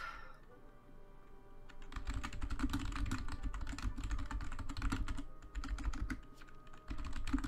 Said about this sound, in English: I hear a frantic typing